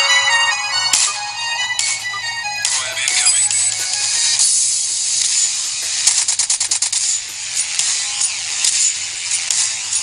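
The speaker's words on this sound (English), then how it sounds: "So I'll show you the current ringtone that I'm using." Phone ringtone playing loudly, an electronic melody shifting into busy mechanical clicking and ratcheting effects with rapid repeated bursts, filling the whole stretch with no talking.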